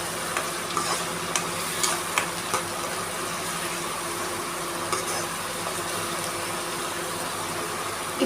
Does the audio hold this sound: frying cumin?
yes